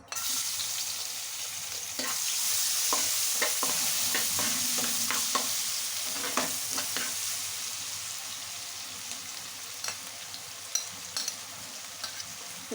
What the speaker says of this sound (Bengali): এগুলোকে দিয়ে ভালো করে একটু হালকা ব্রাউন কালার করে ভেজে নেব